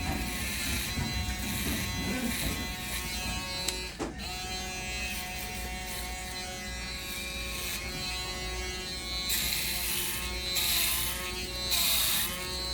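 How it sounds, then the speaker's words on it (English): Steady electric foil shaver buzz running close and continuous during a haircut, a bright motor hum with a brief click partway through and slight shifts in pitch as it moves. "Next, I'm gonna go in with my shaver."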